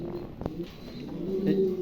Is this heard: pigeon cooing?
yes